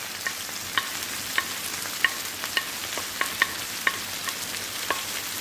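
Scallion frying in a pan for ackee and saltfish, a steady sizzle broken by a dozen crisp scrapes and taps of a spoon stirring at an even pace, close up.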